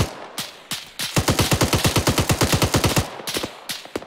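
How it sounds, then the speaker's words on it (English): A long rapid burst of automatic gunfire from the Arma 3 military shooter game, preceded and followed by a few single shots, loud and close with evenly spaced cracks. "Okay, I'm gonna shoot him."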